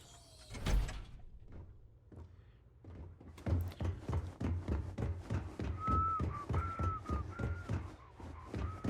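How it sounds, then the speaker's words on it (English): A Starfield game character whistles a wavering, thin tune over a steady run of rhythmic thuds and clanks, following an earlier sharp knock and a quieter pause. "your whistling skill's not great"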